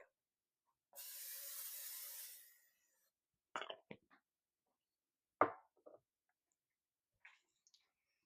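A short hiss from an olive oil cooking spray can onto a pan, lasting about two seconds, followed by a few quiet clicks and taps in an otherwise silent kitchen.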